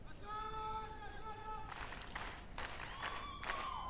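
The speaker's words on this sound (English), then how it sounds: "I ask all of you again to clap for His Excellency" A crowd at the commissioning of the Bugisu Zonal Presidential Industrial Hub claps for President Museveni in faint, distant bursts that follow a short stretch of voice.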